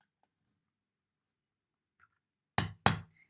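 Silence, then two quick bright clinks of small plastic caps knocking together, close and crisp, about a third of a second apart.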